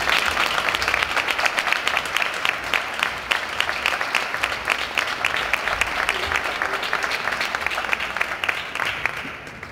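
A crowd at a book launch claps steadily and loudly for about ten seconds, a dense even patter of many hands with no voices over it.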